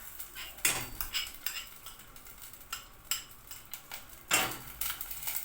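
A metal utensil scrapes and clinks against a pan while tomato paste is stir-fried for oven potato köfte, with irregular close taps and scrapes over a faint background hiss.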